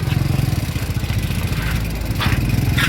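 Motorcycle engine revving hard and unevenly as its wheel sinks in deep mud at Blue Rock Lagoon in Montalban, Rizal, a close, pulsing mid-pitched chug that holds for a few seconds.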